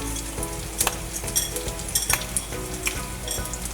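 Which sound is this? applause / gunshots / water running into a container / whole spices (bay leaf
whole spices (bay leaf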